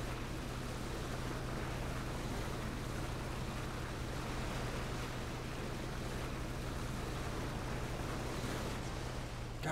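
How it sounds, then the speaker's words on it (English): A boat engine in the video game PUBG drones as a steady low hum under a wash of water and wind noise, faint and unbroken throughout. "you see that boat up there?"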